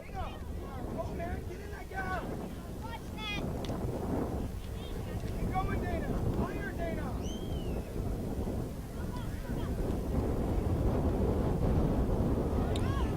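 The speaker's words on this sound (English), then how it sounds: "That wind really coming in strong now." Strong wind buffets the microphone in steady rumbling gusts across an outdoor soccer field during a youth final, while distant players shout and people talk faintly underneath.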